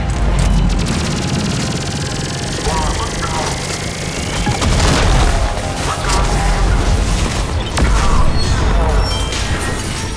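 Booming cannon shots and crashing explosions in the video game Mass Effect 3 rumble through a loud, dense mix of mechanical noise and music.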